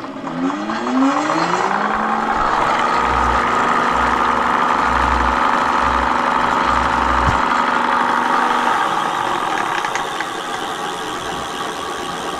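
A mate X 20X4 fat tyre electric bike motor runs noisily and steadily at close range, a loud continuous whine and rumble with a rising pitch at the start, no talking.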